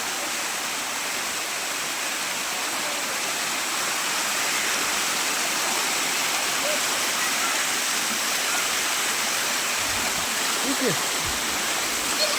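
An artificial waterfall in Kagal roars in a dense, unbroken rush of water, loud and constant, with a faint low thud near the end.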